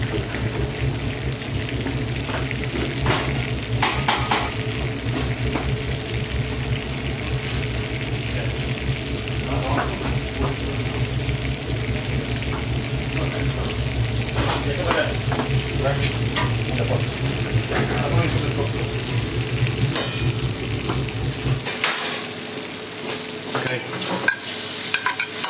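Mushrooms, onions and leek sizzle steadily in a frying pan while a utensil stirs and scrapes through them, and a voice speaks briefly over the continuous crackle before it drops away near the end.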